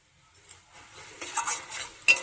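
A spatula scrapes and stirs through a pan as tangra fish are sautéed with ground coriander, cumin and chili powder, with faint sizzling and soft scraping strokes that grow louder toward the end, with no speech.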